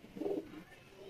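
Royal teddy pigeons give a single soft, low coo, brief and fairly faint, heard close up with no other sounds around it.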